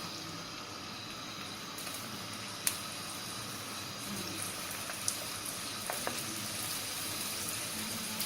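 A steady low bubbling simmer of sauce in a pan fills the background, with a few faint clinks and taps scattered over it and no talking.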